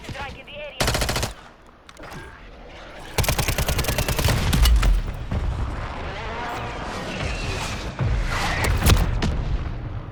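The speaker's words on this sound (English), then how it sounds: "Hostile mortar strike in the area." Call of Duty battle with a hostile mortar strike, heavy bursts of automatic gunfire and booming explosions that roll on continuously and loudly, with faint voices mixed in.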